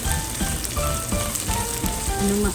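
Ginger sizzling and frying in a hot pan for chicken sinigang, a steady close crackle with bright spattering pops throughout, no voices.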